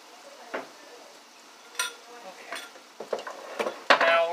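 Food being stirred and pushed around a frying pan while cooking a cheap pescatarian meal, scattered scraping and clinking of a utensil against the pan, light and intermittent, growing busier toward the end.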